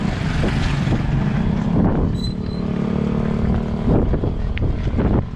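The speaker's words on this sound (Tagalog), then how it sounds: "Masyadong mahangin." Loud, steady wind buffeting the microphone, a continuous low roar that fills the whole stretch with no voices.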